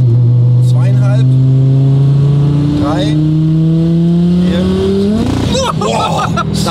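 An Audi A4 with a five-cylinder engine pulls hard from low revs, its loud droning note climbing steadily through successive gears with brief dips at each shift, close and dominant throughout.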